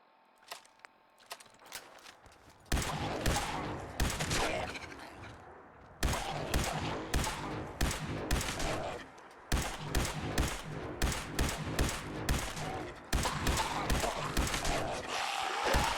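Gunfire from Fallout 4 as ghouls are shot, with long sustained bursts of rapid automatic shots broken by brief pauses, loud and dense, after a few scattered single shots at the start.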